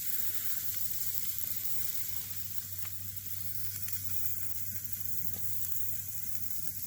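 Steak sizzling on a grate over coals at night outdoors, a steady, close frying hiss with occasional pops and a low hum beneath, no voices.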